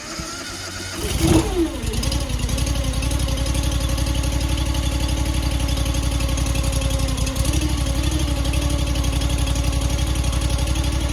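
A small gasoline engine on a Wolfe Ridge 35 SHO boat cranks and catches, then settles into a steady low-throttle chugging idle, loud and close for several seconds.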